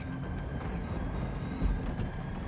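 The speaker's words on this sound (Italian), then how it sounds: "Superstiti a bordo, stiamo decollando." Military aircraft lifting off with survivors aboard in the war game Tom Clancy's EndWar, a steady low engine roar holding at even loudness throughout, with a slight swell near the middle.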